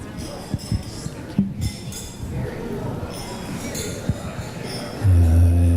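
Glasses clink lightly at a wedding reception toast, a few scattered chinks amid murmuring guests and background chatter, followed by a low sustained hum near the end.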